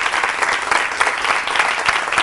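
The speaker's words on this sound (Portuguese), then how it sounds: "Uma salva de palmas aí para essa ação especial do AEJA." An audience claps in dense, continuous applause at a stage event, loud and steady throughout, with a faint murmur of crowd underneath.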